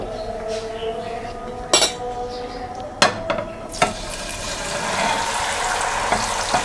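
Small kachki fish go into a frying pan of hot oil, with a few sharp metallic clinks and clatters of utensils, then a steady sizzle of frying that rises and holds to the end.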